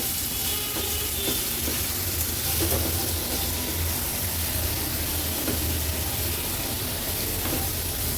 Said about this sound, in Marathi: आता गॅसची फ्लेम हाय ठेवून ह्या काचऱ्या व्यवस्थित आपल्याला ह्या फोडणीवर परतून घ्यायच्या आहेत